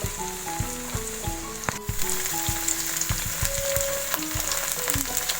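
Sweet corn fries in hot oil with a continuous close sizzle, dotted with sharp pops and crackles that come in an uneven, busy rhythm.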